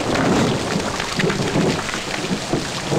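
Heavy rain pours steadily in a Tamil film scene while low thunder rumbles roll beneath it, loud and close, with no one speaking.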